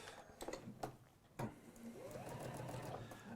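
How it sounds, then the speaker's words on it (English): A sewing machine stitching fabric, a few clicks and knocks before the motor settles into a steady fast whirring hum, close but quiet. "And then you can do some motorway sewing."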